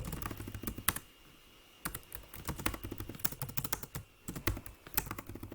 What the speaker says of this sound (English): So I'm going to type in my information.